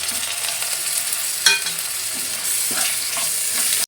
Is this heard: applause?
no